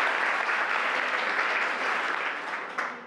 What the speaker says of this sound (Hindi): एक बार जोरदार तालियां आपके खुद के लिए